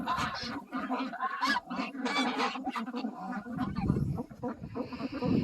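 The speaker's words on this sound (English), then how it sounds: "The geese nibble some grass while they're at it" Geese honk and chatter close by in an overlapping flock, with soft rustling beneath the calls.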